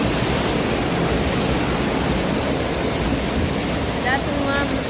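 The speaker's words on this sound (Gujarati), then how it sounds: "જોઈ લ્યો તમે આ ડેમનું પાણી આવે છે" Water rushes steadily from a dam at Uparkot fort, a dense, constant roar with no breaks, heard close and loud, with a faint whistle-like tone near the end.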